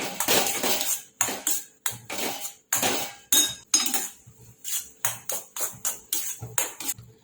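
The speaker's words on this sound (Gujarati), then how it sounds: "અડધી ચમચી ઇલાયચી પાવડર એડ કરીશું કાજુ બદામની કતરાને એડ કરીશું અને મિક્સ કરી લઈશું" A spoon stirs and scrapes cardamom powder, cashews and almonds into wheat-flour sheera in a pan, making repeated short metallic clattering bursts with brief pauses between, close and clear with no voices.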